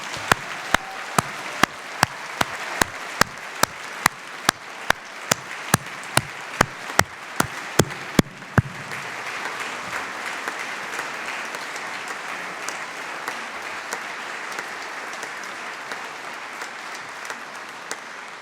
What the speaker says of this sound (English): I'd like everyone else to give them a round of applause